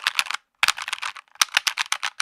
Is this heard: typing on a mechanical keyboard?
yes